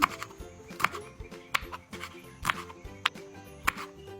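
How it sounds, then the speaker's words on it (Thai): Chili peppers are sliced diagonally with a knife on a cutting board, producing crisp, evenly spaced chops close by over quiet background music. "นำพริกมาหั่นเฉียง"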